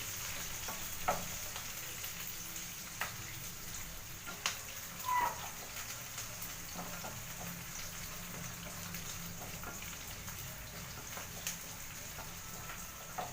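Breakfast frying in a pan sizzles softly and steadily, with occasional sharp pops and stirring clinks over a low background hum, no talking.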